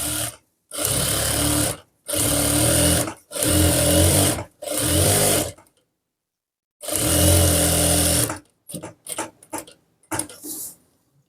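A sewing machine stitches cloth in loud bursts of rapid mechanical whirring, four runs separated by brief pauses, then a longer run followed by quick short stutters of stitching.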